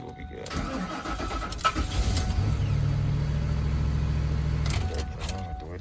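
A car engine cranks and catches at an insurance auto auction lot, settling into a loud, steady running rumble close by, with people talking over it.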